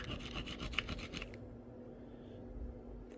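Quartz dragged across a glass surface gives a short run of dry, rasping scratches in the first second or so, then fades to low room noise.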